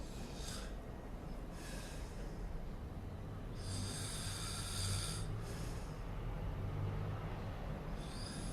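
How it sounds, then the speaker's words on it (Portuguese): A sleeping person snores in a quiet room, a few long raspy breaths at fairly even intervals, close and moderately loud, with no voices. "Ainda ronca."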